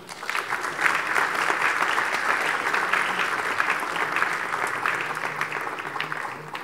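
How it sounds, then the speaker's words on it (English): Audience applause at a capital market seminar in Takoradi, steady dense clapping from a large crowd welcoming a speaker to the stage, sustained at an even level throughout without speech. "let's put our hands together to welcome Dr. Jacob Adu."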